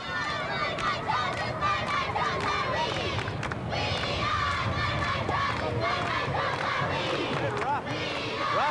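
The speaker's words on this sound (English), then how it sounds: "Let's hear a cheer," High school girls' cheerleading squad at a 1990 state basketball game between Northwood and Edgeley, rhythmic loud shouted chanting from a group with crowd noise throughout a busy gym.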